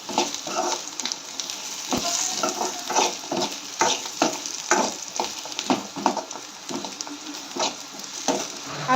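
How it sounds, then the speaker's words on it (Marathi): Onion and coconut masala roasts in a pan, sizzling steadily while a spatula stirs and scrapes in repeated irregular strokes, close and fairly loud with no talking. "जे कांदा वगैरे मसाला आहे हे आपल्याला लालसर होईपर्यंत भाजून घ्यायचं आहे, खरपूस असं भाजून घ्यायचं आहे."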